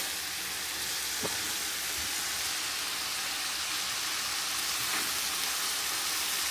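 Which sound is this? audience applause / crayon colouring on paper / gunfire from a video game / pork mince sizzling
pork mince sizzling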